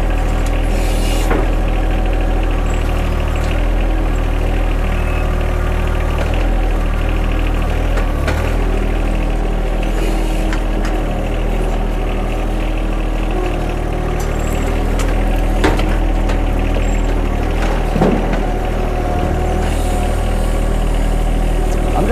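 A John Deere 1025R compact tractor idles with no throttle while loading brush into a dump trailer, giving a steady, continuous low engine rumble close by with faint clanks on top and no talking.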